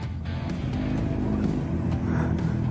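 A Kawasaki Z800 motorcycle engine drones steadily and loudly at close range, a continuous low rumble with no letup while racing an electric scooter. There is no talking.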